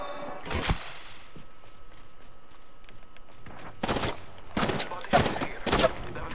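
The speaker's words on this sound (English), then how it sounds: "I am taking fire, friends." Bursts of gunfire in the video game Apex Legends: an early crack, then rapid clustered volleys in the last few seconds, loud against a quieter ambient bed with faint background voices.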